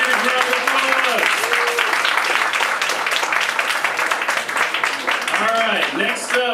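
Audience applause during a film festival panel, a steady wash of clapping heard along with overlapping voices and cheering tones that rise and fall throughout.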